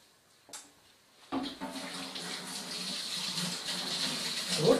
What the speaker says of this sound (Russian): И после первой промывки жидким мылом мы опять же это мыло просто